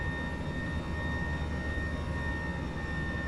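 Steady Tupolev Tu-154 jet engine whine in X-Plane 12, a constant high tone over a low rumble, sustained and even, like an airliner idling, no voices.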